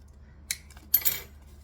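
Two or three quick metallic snips of scissors trimming thread at the end of a back-stitched seam, close and crisp against a quiet room.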